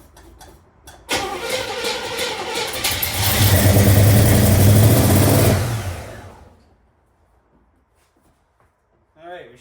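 Pontiac Trans Am 403 V8 cranks and fires up, then runs loud and rough with revving and a slightly sticking throttle before shutting down into quiet, a brief voice speaking at the end.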